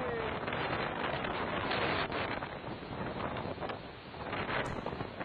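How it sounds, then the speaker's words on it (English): Destructive winds of Tropical Cyclone Winston, a constant loud roaring gust buffeting the microphone, broad and unbroken for several seconds. "they are experiencing destructive winds and torrential heavy downpour"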